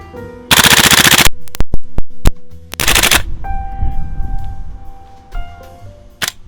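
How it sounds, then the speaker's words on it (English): A GHK Colt M4 gas blowback airsoft rifle fires full-auto, close and loud, in two rapid bursts that empty the magazine, followed by sharp mechanical clicks and handling noises. "Emptying a magazine on one squeeze was no sweat, and loud enough to mess with my external mic."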